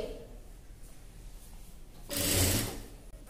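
Sewing machine stitching dress fabric for a neck design, a quiet handling rustle first and then a short loud burst of rapid whirring stitches near the end, with no voices.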